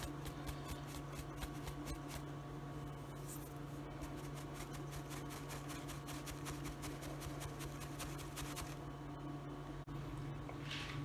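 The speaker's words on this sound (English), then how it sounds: "in our next bowl we're gonna sieve our dry ingredients that we had combined earlier" Flour and dry ingredients being sieved into a bowl for Jamaican fried festival dough, a steady soft rasping and rubbing with fine repetitive ticks running throughout at an even, close level.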